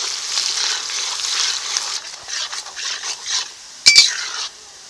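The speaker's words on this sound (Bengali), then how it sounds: "এখন দিয়ে দিচ্ছি পেঁয়াজ কুচি পেঁয়াজটাকে এখন লাল লাল করে ভেজে নেবো" Chopped onions frying in a pan with bay leaf and whole cumin for chicken biryani, a steady sizzle with soft stirring scrapes, followed by a couple of sharp metallic clinks of a utensil on the pan.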